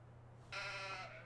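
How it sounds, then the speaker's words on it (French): A single sheep from Farming Simulator 15 gives one short, nasal bleat, fairly clear against a quiet steady background hum. "Il y a un mouton."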